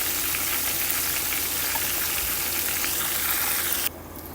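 Chicken lollipops deep frying in hot oil, a dense crackling bubbling roar that runs loud and steady, then drops abruptly to a quieter, softer sizzle near the end.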